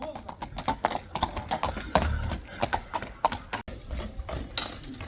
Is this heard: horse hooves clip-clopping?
yes